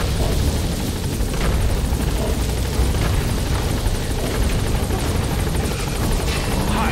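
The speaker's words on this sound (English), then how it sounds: "Alright, the chopper's touching down." In the Metal Gear Solid V video game, a helicopter touches down with a loud, continuous rotor thump and engine roar that stays close and steady throughout.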